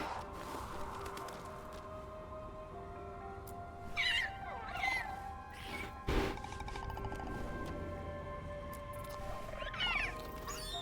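In Dragon Age: The Veilguard, Hassan, a kitty-birdie creature, lets out a few short chirpy meows at moderate distance over a steady game ambience and music bed.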